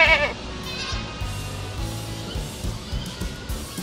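Goats in their pens give one short bleat at the very start, followed by a quiet, low farmyard rumble.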